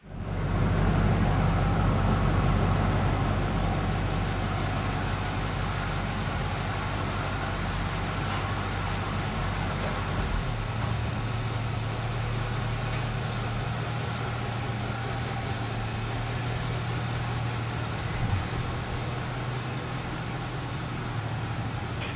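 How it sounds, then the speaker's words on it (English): A Packard car engine starts up and settles into a steady, loud idle, its low rumble continuous and close throughout with a slight shift in tone partway through. "So we'll go ahead and fire this thing up real quick and get it to idle down"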